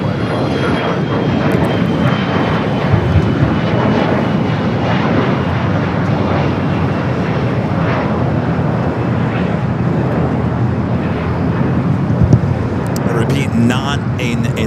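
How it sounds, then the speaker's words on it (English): Boeing 787 Dreamliner jet engines roar steadily as the aircraft departs an airport for Brisbane, a broad continuous rumble that holds loud for the whole stretch, with voices talking over it. "we are getting that Dreamliner heading back to Brisbane"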